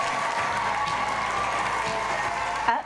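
A school crowd claps steadily in a dense, even wash of applause, with faint cheering mixed in, fading slightly at the very end.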